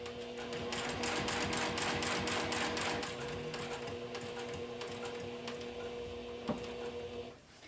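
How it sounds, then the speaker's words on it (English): A sewing machine stitches a straight seam close by, a fast, even, whirring clatter with a steady hum that runs for several seconds, eases slightly, then stops, with no speech. "now I'm going to sew straight down, keeping the seam allowance here until I get to that pivot mark."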